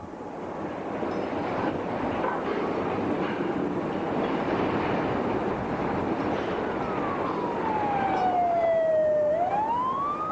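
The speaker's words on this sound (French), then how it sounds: "Le son des sirènes hurlant de 300 mètres plus bas parvient très clairement aux oreilles" A siren wails about 300 metres below, its pitch sliding down and then up, over a constant loud rumble of rail or traffic noise.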